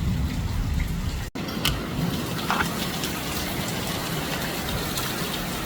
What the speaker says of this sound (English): Powerful, powerful rain.